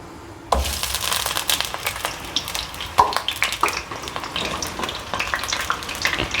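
Onion paste fries in oil with a sudden loud sizzle as it hits the pan, then crackles and spatters unevenly up close, with scraping stirs and no talking.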